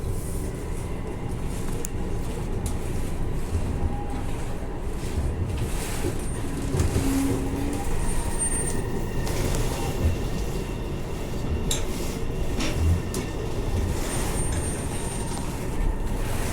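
A Mandurah Line train near Rockingham, running on the wrong track, crosses over a set of points with a continuous loud rumble, intermittent clunks and thumps from the wheels over the crossover, and brief squeals, heard from inside.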